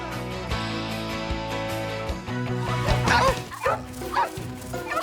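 A cartoon dog barks and yips several times over steady background music, the sharp barks clustered toward the end.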